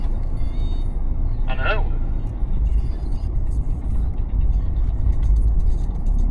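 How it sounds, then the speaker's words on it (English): A camper van driving on the sand at Black Rock Sands beach near Porthmadog, Wales, with a steady low rumble of engine and tyres from inside the cab, while a person speaks briefly. "Can't believe I'm driving on a beach."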